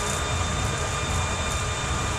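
Steady rumbling rush of a train in motion in Italy, a continuous low drone with faint tonal hums, heard from inside the carriage with no voices.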